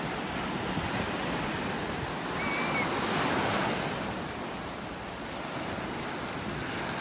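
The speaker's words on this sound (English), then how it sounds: "Darn waves are coming in higher and higher." Ocean surf washes continuously onto a Gulf beach in North Naples, Florida: a steady, hissing roar that swells briefly mid-way, with light wind and no voices.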